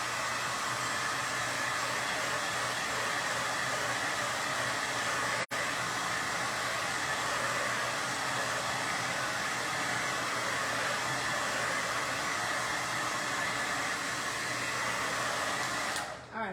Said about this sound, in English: I am going to hit it with the blow dryer one more time just so I don't accidentally smear any polka dots.